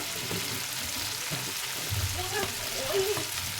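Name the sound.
potatoes stirred with tomatoes, frying in a pan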